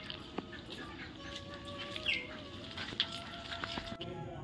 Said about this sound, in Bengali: আর এখানে লক্ষ্য করেছো দেখো পাখি, ঘুঘু পাখি, ও একটু কি করছিল